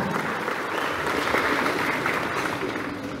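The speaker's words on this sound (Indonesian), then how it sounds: "Tepuk tangan untuk Kiai Nanang." Steady, dense applause from a crowd, loud and continuous throughout with no voices standing out.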